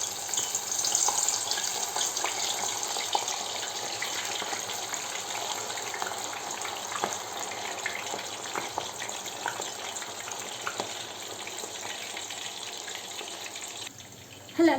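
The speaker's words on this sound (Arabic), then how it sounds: "شايفين هون حطيت زيت للقلي، جهزت الزيت. هلا راح عليها." Cauliflower frying in hot oil, a steady loud sizzle and crackle running continuously from start to finish, with scattered pops and no talk.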